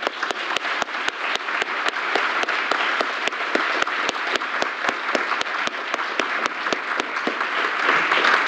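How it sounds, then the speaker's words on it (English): An audience at the Switzerland–Japan Economic Forum applauds its speakers and moderators, a full, continuous wash of clapping with a few sharp individual claps standing out, holding steady to the end. "please maybe join me one last time in giving a round of applause to all our speakers"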